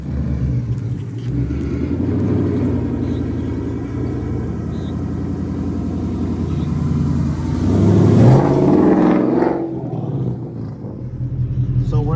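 A Ford Mustang GT with a 10-speed transmission rumbles loudly up close, a deep steady engine drone that swells into a rev partway through before settling back.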